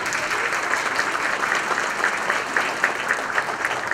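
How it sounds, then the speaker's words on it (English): Sustained, steady audience applause fills a civic event hall, a dense wash of clapping at even loudness with no voices over it. "How about a round of applause for"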